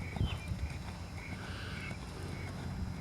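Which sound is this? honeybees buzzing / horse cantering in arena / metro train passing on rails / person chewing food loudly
horse cantering in arena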